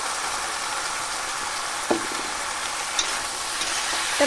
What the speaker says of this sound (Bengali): এভাবে ভালো করে কষিয়ে এবার দিয়ে দেবো টমেটো বাটাটা